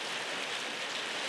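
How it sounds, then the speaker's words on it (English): Steady rain with light wind beats on a Six Moon Designs Skyscape Trekker tent, a dense, even hiss that continues unbroken and fairly faint throughout. "now we're starting to get a little bit of wind and a little bit more rain."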